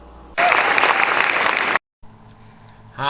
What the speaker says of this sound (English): Thanks for the applause.